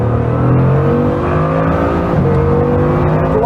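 Bugatti Chiron with its W16 engine accelerating hard onto the Autobahn, a loud, continuous interior engine roar with rising harmonic tones building steadily, no talking.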